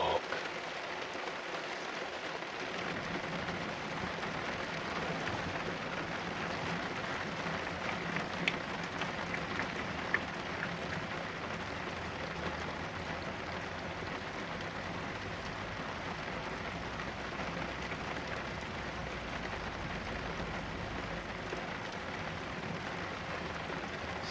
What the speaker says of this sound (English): I'm going to go and hide from the rain for a bit.